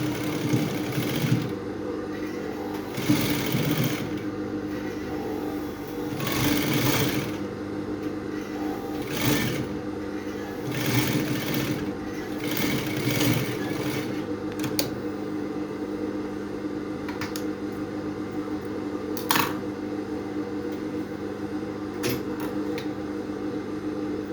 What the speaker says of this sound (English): I'm going to be sewing on 1/2 inch